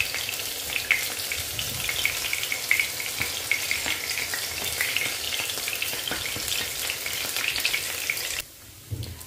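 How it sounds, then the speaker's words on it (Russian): Bread slices frying in a pan to a golden crust, a busy crackling sizzle with irregular pops and spatters, close by, cutting off near the end. "Обжариваю с двух сторон до красивой золотистой корочки."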